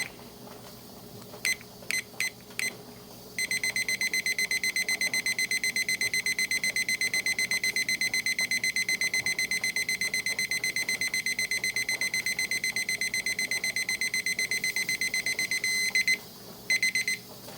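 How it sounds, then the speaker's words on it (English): A kitchen timer is set during a beef and chicken canning session, giving a few short separate beeps and then a long, steady train of rapid high electronic beeps that runs for about thirteen seconds before stopping, with no voices. "I'm going to set my timer here also"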